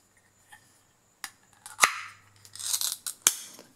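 A caulk-style tube of car window-glass adhesive has its tip snipped and the back cap pulled off, giving a few sharp, close plastic cuts and clicks with brief scraping between, alone in a quiet room.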